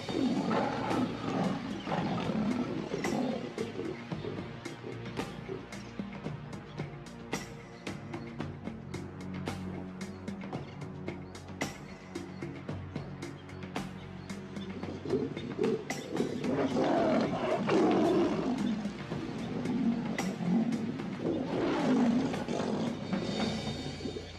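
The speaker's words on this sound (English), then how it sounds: "There are too many lions around." Lions in the South African wild give deep, rumbling roars and growls that swell and fade in long waves amid steady outdoor background noise, with no voices.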